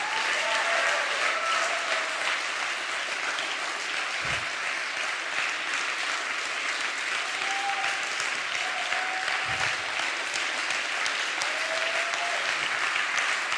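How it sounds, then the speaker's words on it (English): Sustained applause from a Mindvalley audience at a motivational talk, a dense, even roar of many hands clapping throughout, fairly distant, with faint voices occasionally rising above it. "Keep clapping."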